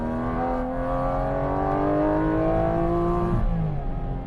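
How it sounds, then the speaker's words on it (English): A Porsche sports car engine roars steadily with a loud intake growl on an Italian mountain road, pitch climbing as it accelerates, then easing off near the end. "The first thing that you notice in this car is that induction noise."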